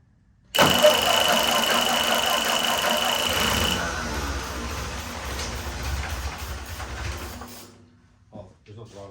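A 1949 Ford 8N tractor, abandoned for years, cranks and catches, then its engine runs loud and rough close by for about eight seconds before cutting out abruptly.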